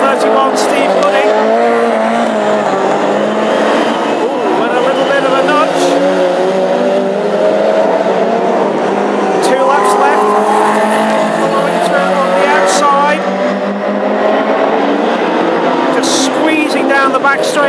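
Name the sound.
hot rod race cars racing on an oval track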